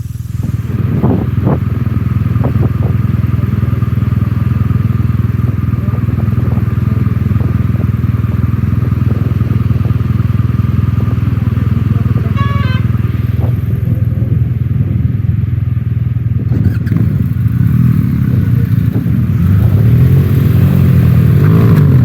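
BMW motorcycle riding off-road, a loud, continuous low engine drone close by with a rough, rumbling texture, a few clattering bumps and slight rising revs toward the end.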